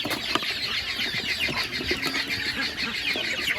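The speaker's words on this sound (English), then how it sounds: "This is a lot of my lavenders, the lavender Orpingtons." Lavender Orpington chickens, young birds with a mother hen in a farmyard coop, give soft clucks and chirps over a busy, steady background of rustling and wing flaps throughout.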